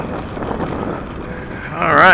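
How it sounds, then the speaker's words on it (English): Wind buffeting a microphone in an outdoor parking lot during a small RC plane flight, a steady rumbling rush that swells louder at the end, with a voice speaking over it. "It's awful windy out here."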